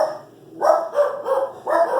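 Dogs barking in a home kitchen, a few short yips and barks in a quick cluster after a brief quiet moment, fairly close and alone without talk.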